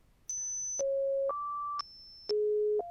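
A modular synthesizer VCO steps through a sequence of clean, steady electronic tones, jumping between high and low pitches about every half second, spiraling like an arpeggio and heard alone at moderate volume.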